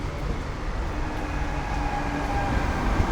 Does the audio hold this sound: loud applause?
no